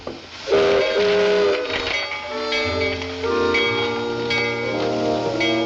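Steam train whistle in a Western railway station scene, sustained and tonal with layered pitches over a steady hiss, loud and continuous throughout with no talk.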